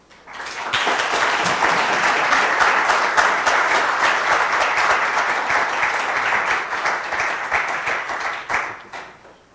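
A large audience claps steadily to welcome university president Anthony P. Monaco at a research day event. The applause is dense and sustained, swelling quickly at the start, holding even for several seconds, then fading out near the end.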